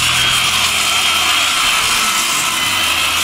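A power saw cutting the wooden sides of a homemade cold frame, giving a loud, steady whining buzz close by with no talk over it.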